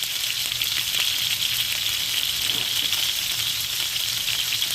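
Steak sizzles and fries steadily in a pan, a dense, continuous hissing crackle that holds loud and unbroken throughout with no voices.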